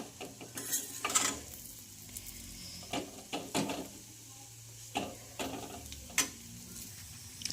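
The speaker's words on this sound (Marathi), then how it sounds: "तर खमंग अशी ही चटणी आपण भाजून घेणार आहोत" Green chili chutney with turmeric roasting in a pan, with soft sizzling and several clinks and scrapes as a spoon stirs against the metal, fairly quiet and close, with no talking.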